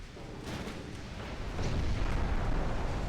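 Distant naval gunfire from the battleship Lorraine in the Ultimate Admiral Dreadnoughts game, a low rumbling boom that swells and holds under a hissy background.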